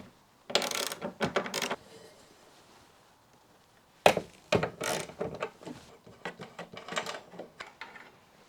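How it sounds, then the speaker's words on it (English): A 12mm socket ratchet clicks in two rapid runs of sharp, close pawl ticks while loosening the wiper arm nut on a Mazda Miata NB2, separated by a short quiet pause. "we're going to take our 12mm socket and ratchet on the nut"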